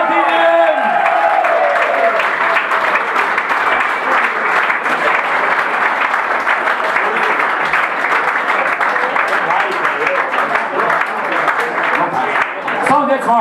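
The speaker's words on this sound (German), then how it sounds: "ich glaube, er kann noch mal einen Applaus verdient" A live concert crowd applauds a young drummer named Liam, loud sustained clapping that fills the room for over ten seconds, with a voice heard briefly at the start.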